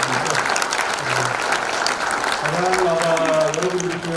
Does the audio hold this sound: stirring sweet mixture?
no